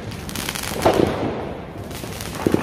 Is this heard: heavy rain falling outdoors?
no